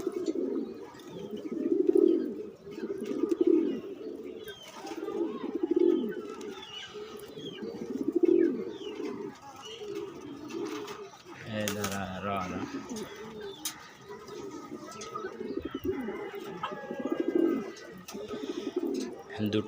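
Pigeons coo in repeated low, soft bursts about every second or two, close by, with a voice speaking in between and a brief clatter midway.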